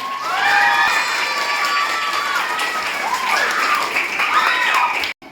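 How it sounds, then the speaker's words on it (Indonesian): Schoolchildren at an elementary school handover ceremony for a new principal in Muara Jawa burst into loud, sustained applause and cheering with excited shouts, close and continuous for about five seconds before cutting off abruptly. "Boleh aplaus anak-anaknya"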